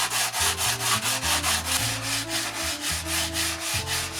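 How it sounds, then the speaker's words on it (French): A wooden leading edge of a model RC plane wing is sanded by hand in quick, even back-and-forth strokes, a loud, close, rhythmic rasp repeating about three times a second with no talking. "C'est parti pour une séance de ponçage du bord d'attaque."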